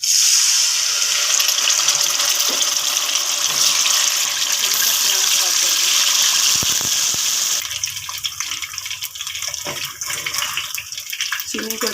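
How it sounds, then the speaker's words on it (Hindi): Water is poured into hot ghee and sugar for Punjabi semolina halwa, giving a loud rushing sizzle and hiss that later drops into softer bubbling and spitting, close up with no speech. "चीनी ऐड करते ही आपने फ़ौरन से जो है थोड़ा सा पानी ऐड कर देना है"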